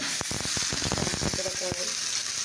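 Potatoes frying in a pan, a bright constant sizzle under a run of quick clattering stirs and taps, close by, with a brief voice.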